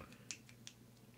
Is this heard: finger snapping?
yes